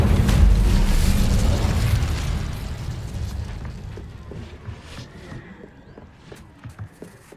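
Fire spells cast in the video game Hogwarts Legacy, heavy booming bursts that roar loudly at first and then thin out into scattered pops and crackles as the blasts fade.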